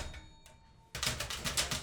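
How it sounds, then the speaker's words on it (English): Keys on a typewriter clatter in a fast burst of loud strikes after a quieter stretch of softer taps, close by and with no voices. "exploring what different sounds we can get out of the typewriter"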